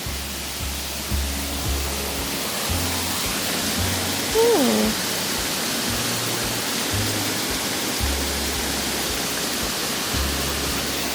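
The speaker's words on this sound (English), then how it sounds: "Coming up to a little waterfall and a little bridge." A small waterfall beside a little bridge gives a steady, dense rushing roar throughout, with low thumps of handling noise and a short exclamation from a woman partway through.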